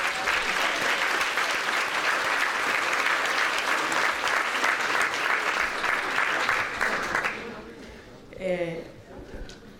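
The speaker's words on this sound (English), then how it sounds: "I want a big round of applause for Jose." An audience gives a long round of applause for Jose Vargas, dense steady clapping for about seven seconds before fading out, then a single voice speaks briefly as it dies away.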